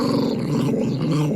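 A person imitates the low, rumbling growl of a grouchy dog, one sustained snarl held close and fairly loud with no other talk.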